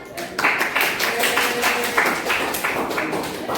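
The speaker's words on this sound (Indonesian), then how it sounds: "Yuk, beri tepuk tangan." A classroom of students claps together, a short run of quick, fairly close handclaps with a few voices mixed in.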